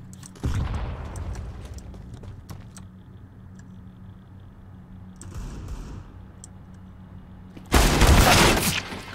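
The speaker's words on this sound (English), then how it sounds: "Throwing a grenade." A grenade goes off in a PC shooter game, a loud sharp blast near the end after quieter thuds and clicks, with scattered gunfire-like pops earlier in the stretch.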